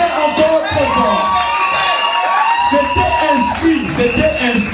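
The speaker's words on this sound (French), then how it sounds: "Alors applaudissez encore très fort." Wedding guests at a civil marriage in Gabon cheer and whoop loudly as a crowd, with overlapping shouting voices and a brief dip in the noise.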